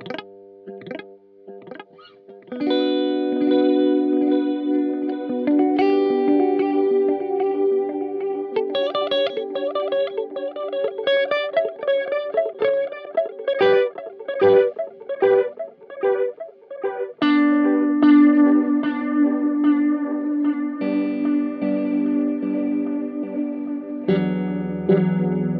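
An electric guitar played through a Boss DD-200 digital delay pedal, first clean and then with drive, rings out in picked notes and chords with repeating echoes trailing behind, growing grittier and denser later on.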